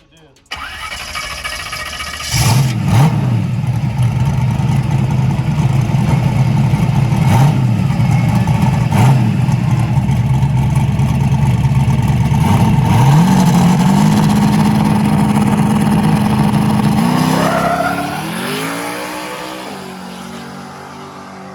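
A no-prep race car on a bare, untreated surface starts up and holds a loud, steady engine drone through a burnout with spinning tires, then revs hard and launches away, while people talk nearby.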